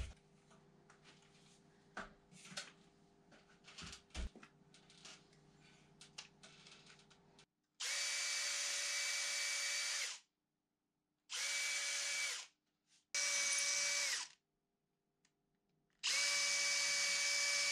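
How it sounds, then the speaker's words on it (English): A power drill bores dowel holes in a wooden cupboard inside a barn conversion in Portugal, sounding in four loud, whining bursts of several seconds each, after a stretch of quieter tapping and handling. "it had a bunch of debris and dirt that it just kind of filled up. So I drilled it out."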